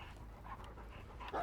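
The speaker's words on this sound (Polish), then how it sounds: "Fajnie, że ten pies znowu pobiegł." Houndmaster's dog panting in Dead by Daylight, quick rhythmic breaths close by, quiet and alone, with a louder huff at the end.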